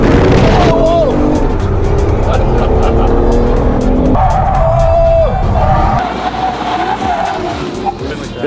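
A race car driven hard in Berlin roars loudly up close, its tires squealing and skidding through the turns. The engine note rises and falls, and people talk over the noise.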